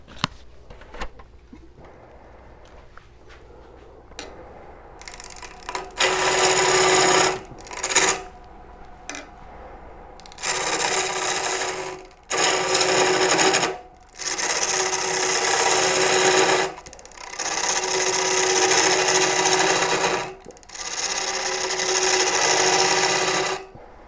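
A woodturning gouge cuts the inside of a live-edge wooden bowl with an embedded nut, spinning on a lathe. Loud, harsh scraping bursts come in repeated passes of a few seconds each, separated by short pauses filled with a quieter motor hum.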